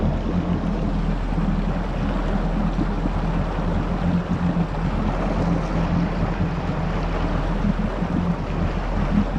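A Yamaha GP1800R jet ski runs out on the Atlantic Ocean: a steady, loud engine drone blends with rushing water and heavy wind buffeting the microphone, with no break for the whole stretch.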